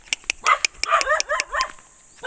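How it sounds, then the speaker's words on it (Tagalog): A nearby dog barks in a quick series of sharp yips and whining barks, irregular and fairly close, on a quiet rural path with little else around. "may aso na naman sasalubong sa akin"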